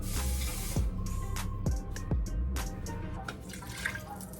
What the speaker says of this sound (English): I'm gonna add a little bit of water because it's got some sauce.